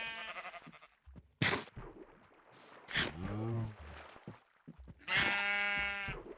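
Sheep in Minecraft give several quavering bleats at intervals, fairly close, between stretches of quiet talk.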